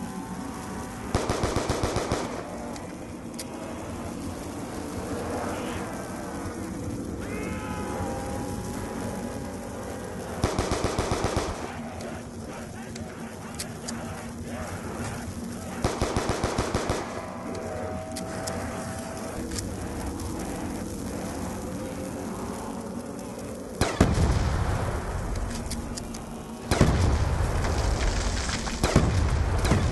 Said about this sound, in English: I will play the sound of the unpat version and then the pat version right now